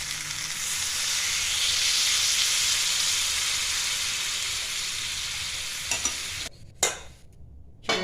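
Pea and potato curry in a pan, stirred as a little water goes in, giving a loud steady hiss and sizzle that cuts off near the end into a few scrapes and knocks, no talking.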